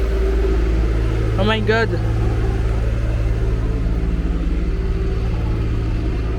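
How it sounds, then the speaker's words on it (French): A truck rumbles nearby as a steady, heavy low engine drone that carries through the whole clip. A voice exclaims briefly over it. "c'est ce camion là qui veut gâter ma vidéo"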